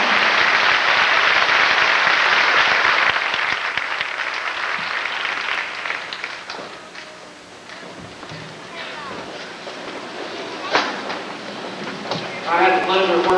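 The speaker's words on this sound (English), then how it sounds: "Please give these athletes a large round of applause." Audience applause at a sixth-grade elementary school graduation ceremony, a dense wash of clapping that starts loud and gradually thins out, with a few voices and scattered noises near the end.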